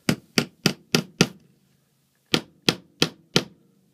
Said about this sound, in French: Donc pour cela, je prends un clou, le gros clou. Alors je l'enfonce.